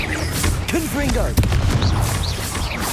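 Confringo blasting spell in Hogwarts Legacy going off as a sharp, booming burst near the middle, surrounded by busy game effects and voice-like sounds.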